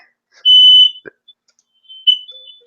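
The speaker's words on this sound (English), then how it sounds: "There's a fire alarm." A fire alarm sounds during a test: a loud, piercing electronic beep held for about half a second, a short pause, then another shrill beep, with no speech.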